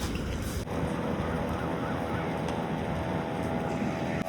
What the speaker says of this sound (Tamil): மீன் பிடிச்சிட்டு போட் கிளம்பிருச்சு